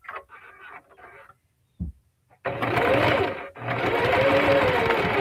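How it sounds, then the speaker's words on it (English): A sewing machine stitches a small zipper coin pouch, starting with a few short stop-and-go bursts and then running in two sustained, steady whirring runs with a brief pause between, close and clear. "And then I'm just going to sew straight, stopping, back stitching."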